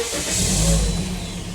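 Toyota Corolla engine cranking and catching after its battery was charged, a short low rumble that swells and settles into a running engine, close and fairly loud with no talking.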